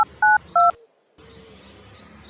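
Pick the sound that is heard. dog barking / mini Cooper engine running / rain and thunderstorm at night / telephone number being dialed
telephone number being dialed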